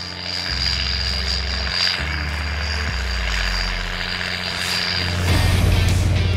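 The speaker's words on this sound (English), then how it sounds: "Mounted onto this 290 horsepower tractor is a lightweight, foldable, 6-metre disc harrow" A heavy 290-horsepower Massey Ferguson tractor pulling a foldable 6-metre disc harrow rumbles and drones steadily, its pitch shifting in steps as it works, with a louder, rougher roar near the end.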